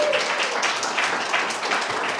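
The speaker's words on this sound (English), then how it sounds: "Can we give a wonderful round of applause?" Steady audience applause at a poetry event, a dense continuous patter of many hands clapping at moderate loudness for about two seconds, with no voice over it.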